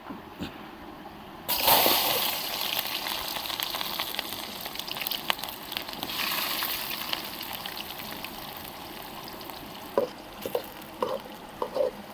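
Chopped onions tipped into hot oil with mustard seeds at an outdoor forest cookout, a sudden loud sizzle that settles into steady frying hiss, later broken by a few stirring clatters; no talking.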